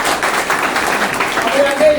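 Audience at a DXN marketing plan talk clapping for Star Ruby members, a brief, dense patter of hands from a roomful of people, continuous and fairly loud for a couple of seconds.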